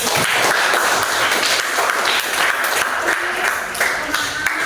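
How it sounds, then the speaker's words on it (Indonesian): Junior high school students in a social studies classroom clap together for classmates who scored 100, a dense, steady burst of applause that fills the room. "untuk yang dapat nilai 100 kita kasih tepuk tangan dulu"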